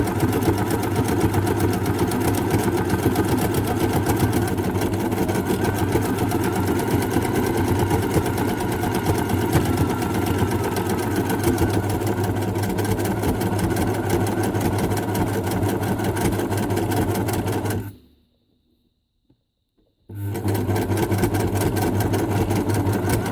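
A sewing machine stitches thick scrap-fabric rope with a steady, close, droning whir that runs continuously, stops dead for about two seconds, then starts up again.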